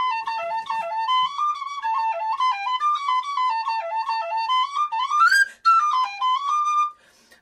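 A D tin whistle plays the Mooncoin Jig in A, bright lively notes in a quick bouncing rhythm with sharp upward chirps flicked between them and one high squealing sweep near the end, played solo.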